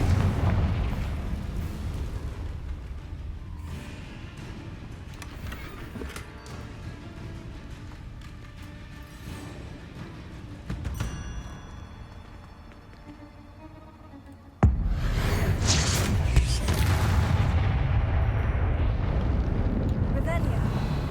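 Blasting-spell explosions from the video game Hogwarts Legacy rumble deep and heavy over a long stretch, with a sharp, loud blast near the end and a roaring aftermath, mixed with game effects.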